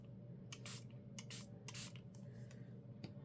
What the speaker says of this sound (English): let's turn it this way and spray it.